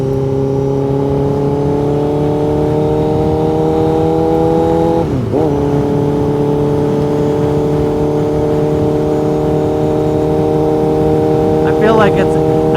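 A steady motorcycle engine drone while riding at night, the pitch holding level with a brief dip midway, loud and close with wind noise.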